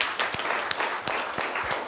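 An audience at a policy discussion forum applauds, steady moderate clapping from many hands in a hall, lasting the whole moment without talk.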